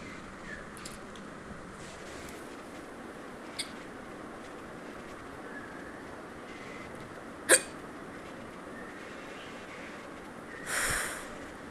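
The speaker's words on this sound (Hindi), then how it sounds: "हिचकी आ रही है तो पानी नहीं पीती हूँ" A woman hiccups, with one sharp, loud hiccup standing out and a softer one earlier, followed by a brief breathy sound near the end over a quiet indoor background.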